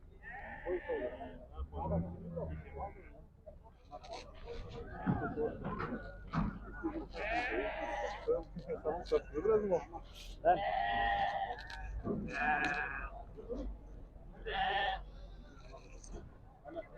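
Sheep and lambs at a small-livestock market in Karabulak bleat repeatedly, close and loud, their cries overlapping with people talking nearby, plus occasional knocks and thuds.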